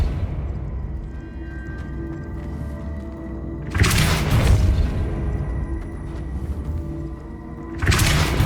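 Depulso force spell casts in the Hogwarts Legacy video game, two sudden loud whooshing bursts with a deep boom, each followed by a fading decay over a low game ambience.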